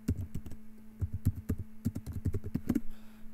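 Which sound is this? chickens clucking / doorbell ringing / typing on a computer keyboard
typing on a computer keyboard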